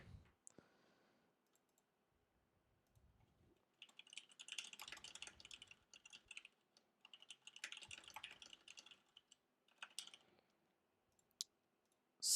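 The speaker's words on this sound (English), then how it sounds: "I can actually type this part." Typing on a computer keyboard, quiet and close, in bursts of rapid clicking keystrokes separated by short pauses, with a few isolated key taps in between.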